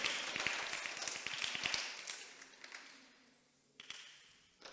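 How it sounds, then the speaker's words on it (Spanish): A congregation at a church service claps together in a brief burst of applause that thins out and fades into a quieter room. "darle un fuerte aplauso al Señor"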